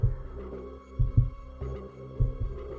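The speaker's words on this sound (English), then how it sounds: "You hear their faint heartbeats and low rumbles in their throats." Slow, muffled thumping of feral creatures' heartbeats in a video game, soft paired beats repeating under a low droning hum, with no voices.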